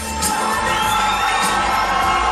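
A loud arena crowd at a live MMA event in Memphis cheers and shouts steadily for a heavyweight fighter, a dense roar with whoops rising through it.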